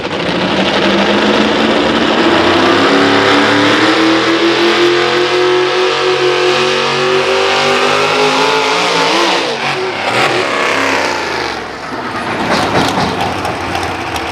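A pulling truck revs hard at an Atlantic Pro Pulling truck pull in Berryville, its loud engine roaring steadily and rising in pitch for most of the run before easing near the end.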